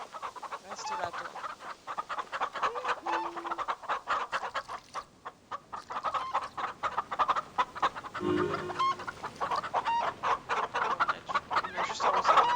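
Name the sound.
chickens clucking in a video game (Star Stable Online)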